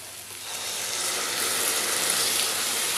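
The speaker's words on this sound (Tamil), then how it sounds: "அந்த தண்ணியை ஊற்றிடலாம்ல" Cooking water is poured into a pot of horse gram curry, making a steady hissing, sizzling rush that rises in the first second and then holds evenly.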